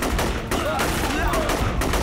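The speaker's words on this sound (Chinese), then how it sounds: "有枪声了！" Gunfire from a war drama about fighters resisting Japanese invaders, sounding as loud, dense bursts over a noisy battle scene, mixed with shouting voices.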